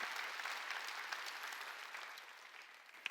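A church congregation breaks into applause partway through a Sunday sermon, a soft, continuous patter of many hands that tapers gently, with a single sharper clap near the close.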